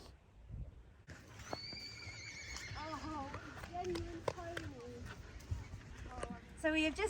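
A young horse on a cross-country course at a hunter trial clears a small tyre fence, with hoofbeats, a whinny and a snort heard under steady talking and crowd chatter.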